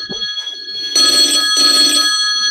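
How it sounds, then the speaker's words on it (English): An old telephone's mechanical bell rings loudly and close, a brief ring followed by two long sustained bursts of metallic ringing with a short gap between them. "It's an old phone, they were all deaf in those days."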